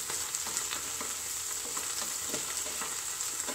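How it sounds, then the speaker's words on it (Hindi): Boiled potatoes roasting in hot ghee for sabudana khichdi give a steady, close sizzle with faint stirring scrapes scattered through it. "घी में हम बॉइल्ड आलू को बहुत अच्छी तरह से रोस्ट होते तक भूनना है।"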